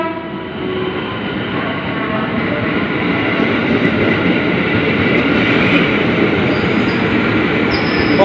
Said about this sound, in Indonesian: Nah, ini yang kereta yang ke Angke.